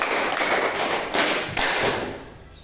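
Classroom group clapping a counted five-clap pattern: a few sharp, fairly loud claps spaced across the moment, then fading room ambience.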